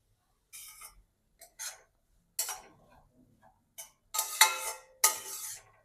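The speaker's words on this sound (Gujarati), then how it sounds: "સૂજીને આપણે શેકી લેવાની છે" Semolina is roasted in ghee in a pan for sooji shiro. A spoon stirs with short bursts of close, gritty scraping and metallic clinks separated by brief pauses.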